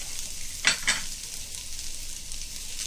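Onions frying in a pan with ginger and garlic give a steady, close hiss and sizzle, broken by a couple of short scraping stirs early on, with no voices.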